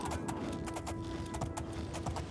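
Horse hooves clip-clop at a steady walking pace in Oblivion, a fantasy video game, close and continuous over a constant hum of game music and ambience.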